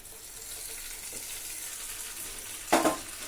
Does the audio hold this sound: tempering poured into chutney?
yes